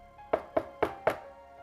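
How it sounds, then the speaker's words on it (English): Four evenly spaced, hollow knocks strike a door at night, each a sharp solid thud with a brief ring-out, steady in rhythm and fairly close, with nothing else but quiet room tone between them. "I woke up to a knocking on the door"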